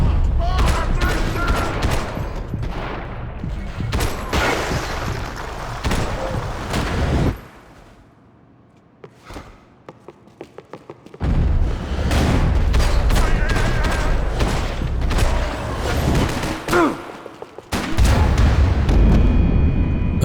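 Loud, dense gunfire and explosive booms from a Max Payne 3 prison shootout, heavy sustained bursts, a brief near-silent lull with a few isolated shots, then another long barrage with a voice speaking briefly.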